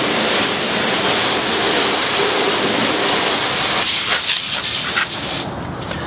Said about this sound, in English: So first, go ahead and rinse down the surface.